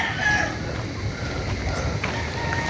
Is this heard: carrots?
no